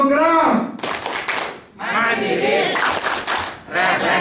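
Bursts of audience clapping at an Indonesian teacher-training workshop alternate with a person chanting energetically and a group shouting back, loud and close in a room.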